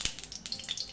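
Mustard seeds crackle in hot oil in a home kitchen pan, a dense, close sizzle with a few sharp pops sounding alone.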